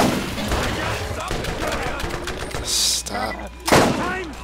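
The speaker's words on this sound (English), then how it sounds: "Oh, you're shooting at me." Gunfire from enemies in the video game Borderlands, several sharp close shots in bursts, with a player's voice speaking briefly over the shooting.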